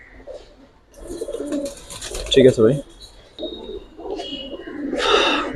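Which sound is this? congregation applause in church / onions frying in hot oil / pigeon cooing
pigeon cooing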